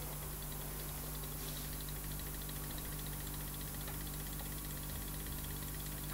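A two-coil pulse motor runs steadily with a dense, continuous buzzing hum and even mechanical whir, close and constant throughout with no talking.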